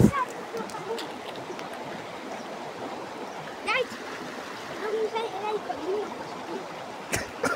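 A mountain stream rushes and splashes steadily nearby, a continuous broad wash of water with brief louder splashes, while people talk over it.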